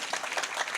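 A short burst of audience applause at a kirtan, a dense spread of hand claps at moderate volume.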